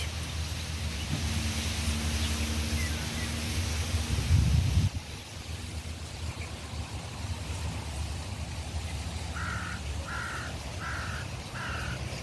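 Crows caw outdoors in a light breeze, with four short repeated caws in a steady rhythm toward the end, over continuous wind noise and rustling.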